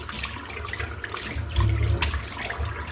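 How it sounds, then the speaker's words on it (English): Cold water running and splashing from a tap at a sink as it is scooped onto the neck, a close, steady trickling with a brief louder gush midway. "I'm just going to add a little bit of cold water on my neck"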